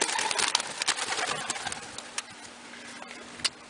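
Domestic pigeons in a loft, with a soft mix of scattered cooing, light fluttering and pattering at close range. The sounds come in short bursts over a steady background, with no talking.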